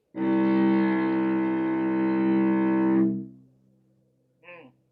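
A low cello string is bowed in one long, loud, sustained note that rings like a foghorn for about three seconds and then fades, followed by a brief fragment of another tone.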